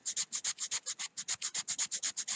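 A hand-carved wooden fishing lure is rubbed with Abernet sanding cloth in a quick, steady run of about sixteen short, even rasping strokes, close and alone.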